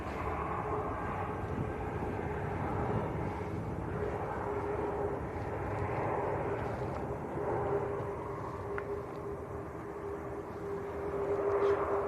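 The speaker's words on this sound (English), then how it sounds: "Egypt Air just touching down. A321 Neo in from Cairo." An EgyptAir Airbus A321neo arriving from Cairo touches down at Manchester Airport, its engine roar a steady broad rumble at moderate distance, swelling slightly toward the end with no voices over it.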